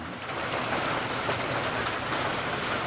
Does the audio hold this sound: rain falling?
yes